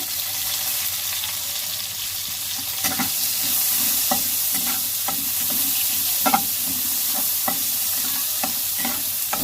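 Chopped onion fries with panch phoron in a pan, a steady close sizzle broken by the regular scrape and clatter of stirring, with no talking.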